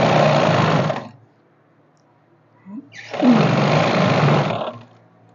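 Electric sewing machine stitching salwar fabric in two loud, steady bursts separated by a short pause, close to the listener.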